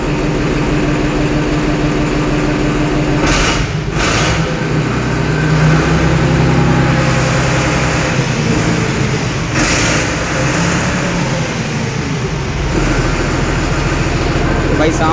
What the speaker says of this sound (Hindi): तो ऐसा कुछ साउंड है ट्रैक्टर का,